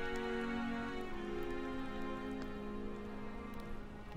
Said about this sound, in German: Hagelt es bei euch auch?